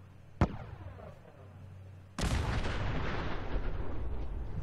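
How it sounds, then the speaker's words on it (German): A single sharp gunshot cracks in the Fallout 4 video game, then a loud sustained roar of blasting or explosion-like noise takes over and continues to the end. "Jetzt haben sie geschossen."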